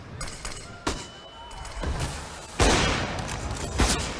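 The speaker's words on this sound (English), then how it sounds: "Johnny Boy takes the head clean off of Cadian with a swift AWP shot" A swift AWP sniper rifle shot lands in a CS:GO match on the Cobblestone map, one of several sharp gun reports and impacts heard over a noisy stretch of match play.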